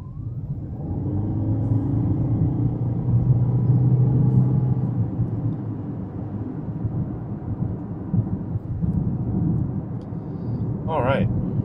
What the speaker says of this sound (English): It definitely has a lot of road noise, even at 40 miles an hour.